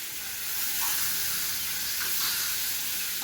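Satay skewers sizzling on a Teflon pan, a steady bright hiss of frying and steam with a few soft pops, continuous and close, no voices.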